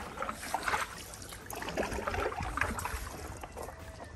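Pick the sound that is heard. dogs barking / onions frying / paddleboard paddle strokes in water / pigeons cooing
paddleboard paddle strokes in water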